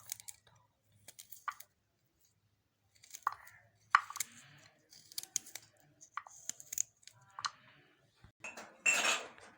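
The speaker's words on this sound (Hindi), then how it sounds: "सबसे पहले हमने अदरक लिया है, इसको बारीक काट लेंगे" Fresh ginger, peel still on, is chopped finely on a board: a quiet run of irregular knife taps and short scraping strokes with pauses between, ending in a louder rustling scrape.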